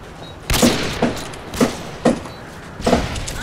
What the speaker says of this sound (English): those pop, pop, pop, those are fireworks